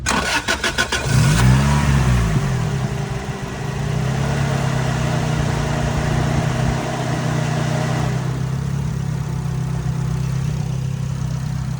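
A Toyota AE86 with a turbocharged 3SGE engine cranks briefly, catches and revs, then settles into a steady idle that hums on continuously at close range.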